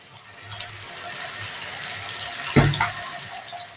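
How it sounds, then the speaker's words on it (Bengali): Hot water is poured into a pan of chicken curry with capsicum, a soft continuous splashing trickle that ends in a brief louder splash near the end, close by and without speech. "আমি গরম জল ফুটিয়ে রেখেছিলাম, গরম জল দিয়ে দিলাম।"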